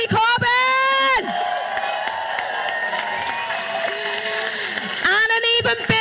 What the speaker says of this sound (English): So big round of applause for our MPs and Jeremy Corbyn